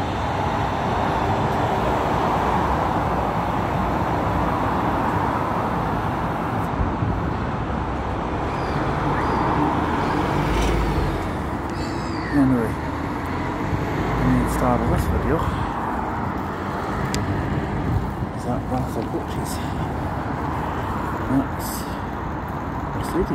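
A Mercedes Turismo coach running on a Citylink service between the M8 and Perth, heard as a steady low engine and road rumble from inside, with someone speaking over it throughout and faint clicks and rattles.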